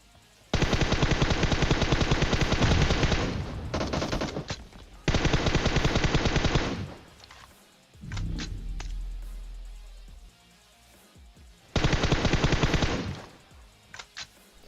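Automatic weapon fire in the mobile battle royale game PUBG Mobile comes in loud sustained bursts, three long volleys separated by short pauses and a few lone shots.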